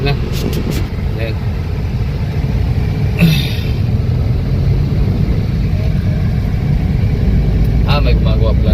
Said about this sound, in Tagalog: Traffic na dito tol. Traffic na nga.